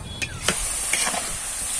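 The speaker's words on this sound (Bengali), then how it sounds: "বাকি চিপসগুলো কিন্তু এইভাবে করেই ভেজে নেব" Oil sizzles steadily with a soft, continuous crackle as potato chips fry, close by, with a few brief clatters of stirring on top.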